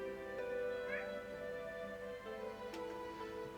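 A cat meows a few times, soft and close, over a quiet sustained musical background.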